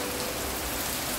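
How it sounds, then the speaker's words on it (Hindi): Heavy monsoon rain pours down outdoors, a dense, steady hiss that stays loud and even throughout, with no voices over it. "देखिए कितनी तेज़ बारिश होने लगी"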